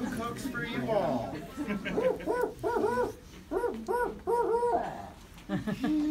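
A person imitates barred owl hoots, delivering several phrases of rhythmic, closely spaced hoots after some brief talk, with a muffled, drawn-out hoot ending the series; the voice is close and moderately loud.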